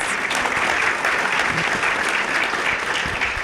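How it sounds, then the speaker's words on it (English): Audience applause for panelists at a university State of the University address, a dense, even roar of many hands clapping at steady loudness for the whole stretch. "Let's give our panelists a big round of applause."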